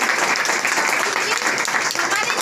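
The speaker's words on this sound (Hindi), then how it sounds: "सर के लिए एक बार जोरदार तालियां।" Audience applause at a motivational business seminar in India, a loud, dense, steady wash of many hands clapping throughout, with voices faintly mixed in.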